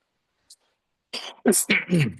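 A single person coughs a few times in quick succession, close and fairly loud, after a brief silence, with a small throat-clearing quality between the bursts.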